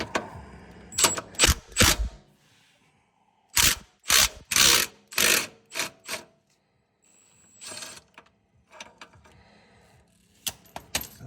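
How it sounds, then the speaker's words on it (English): A ratchet with a standard-depth socket removes a bolt from a transmission or motor mount, giving several loud, fast bursts of clicking with short pauses between them, close by and with no one talking. "I've got the standard depth socket, and I think that's going to work okay for me here"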